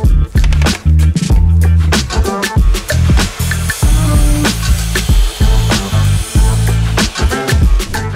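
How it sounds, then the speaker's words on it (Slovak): Loud, close sawing through wooden beams, with rapid rough strokes and brief pauses, harsh and rasping throughout. "pomocou píly ich narežeme na správnu dĺžku"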